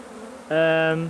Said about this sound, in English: this brood box is just jam-packed full of bees and brood